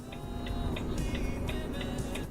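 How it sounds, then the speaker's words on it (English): A truck drives right alongside a car in traffic, heard from inside as a steady, loud low rumble of road and engine noise, with a faint, regular ticking repeating above it throughout. "there's a truck next to me. That's a truck next to me!"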